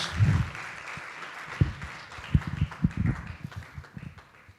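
A modest audience at a business panel event claps to welcome a speaker to the stage, a thin, scattered patter with a few sharper, closer claps, fading out toward the end.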